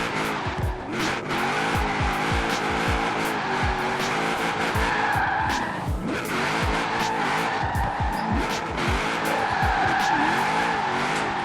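A car drifting with clutch kicks in the video game Forza Horizon 4: a loud, steady tire squeal runs throughout over a revving engine whose pitch rises and falls repeatedly as the clutch is kicked.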